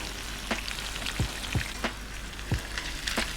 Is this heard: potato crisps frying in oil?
yes